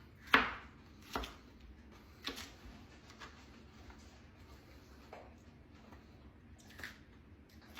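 A knife slices peppers on a cutting board in a home kitchen, giving sparse, soft, irregular chops with one sharper cut at the start and quiet pauses between, close by and without speech.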